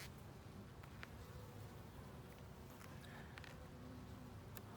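A dense, steady buzz of many honeybees humming together around a hive, low and continuous, with occasional brief closer wingbeats passing by.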